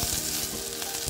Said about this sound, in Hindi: यहाँ पे मैंने जीरा और हींग का तड़का देके प्याज डाल दिया है